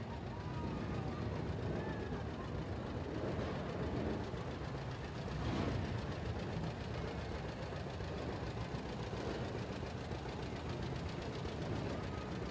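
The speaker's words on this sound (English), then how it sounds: "John Deere Tractor." A 1947 John Deere tractor engine rumbles at a steady idle-like pace during a Veteran's Day parade in Williamsport, its low knocking drone continuous and moderately distant beneath a parade announcer's amplified voice.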